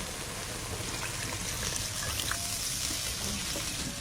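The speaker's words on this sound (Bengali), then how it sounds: "এবার জল দিয়ে দেবো" Water poured into a Bengali village-style rui fish posto curry, a steady, continuous splashing pour that runs unbroken for several seconds.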